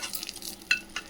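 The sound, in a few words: stirring fried Maggi noodles with masala in a pan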